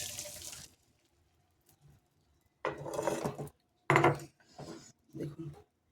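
Fish roe omelette being stirred in a pan yields bursts of scraping and sizzling, close and fairly loud, separated by silent gaps, with several short clattering passes toward the end.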